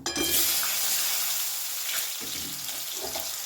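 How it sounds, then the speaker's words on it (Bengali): Potatoes fry in a pan over cumin seeds and dried chillies, giving a steady loud hiss and sizzle throughout with faint stirring scrapes and no talk. "আলুটা একটু ভালো করে ভেজে নেব"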